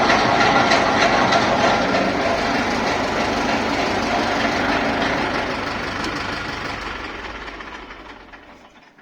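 Ursus C360 tractor engine running steadily with the PTO shaft set to 1000 rpm, a loud continuous mechanical drone with rattling texture that fades somewhat toward the end.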